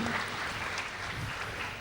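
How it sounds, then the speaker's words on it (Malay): A studio audience at a celebrity talk session claps for a guest, producing a brief, steady burst of dense applause with a faint crowd murmur underneath. "Kita bagi tepukan kepada untuk Yat Hamzah"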